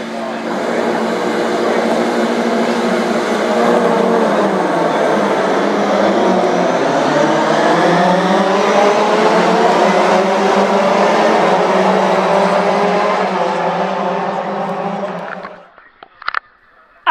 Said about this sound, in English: The engine notes will rise and the lights will go out quite quickly, up to 3 second pause for the final Ginetta race of 2017.